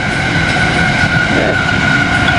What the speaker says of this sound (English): I think there's a train coming. Look at it. Here it comes.